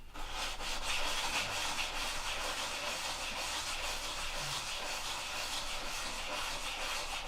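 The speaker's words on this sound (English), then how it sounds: "That's why I'm sanding on more on this side than the other side" Steady, continuous sanding, a broad rasping hiss of abrasive rubbing against a surface, close and constant for several seconds with no talking.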